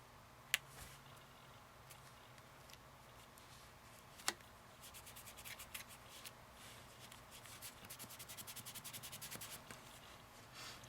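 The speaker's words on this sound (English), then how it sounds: "Just rubbing off some of the excess glue there." Excess Fabri-Tac glue rubbed off a paper craft envelope by hand: faint, close, papery rubbing strokes that grow quicker and busier in the second half, with a couple of small taps earlier.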